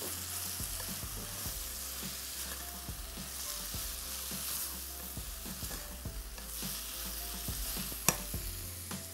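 Small diced tomato cubes cooking in a pan, a soft continuous sizzle broken by repeated scraping and stirring knocks of a utensil, fairly quiet, with one sharper clack near the end and no talk.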